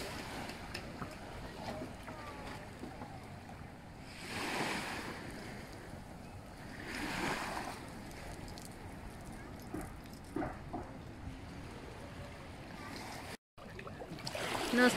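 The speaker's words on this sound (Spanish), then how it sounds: "graba el mar para que vean" Sea surf rolls onto the beach at Huatulco, with repeated wave swells breaking about every three seconds under steady wind rumble on the microphone, close and continuous, with no talk.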